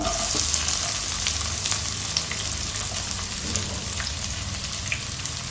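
Onions frying in hot oil with mustard seeds and urad dal for atukula pulihora, a steady close sizzle with scattered crackles and pops throughout, no talking.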